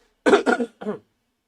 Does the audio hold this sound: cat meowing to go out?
no